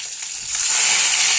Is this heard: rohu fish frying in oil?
yes